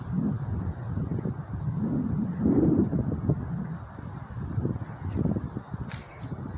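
Strong gusty outdoor wind tearing the last leaves off the trees, with a steady low roaring buffet against the microphone and loose leaves rustling. It swells and eases in waves throughout, and nobody speaks.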